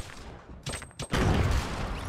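Sharp bursts of Fortnite gunfire crack out in a short volley, a couple of quick shots followed by a louder, sustained blast of fire, with no talking over it.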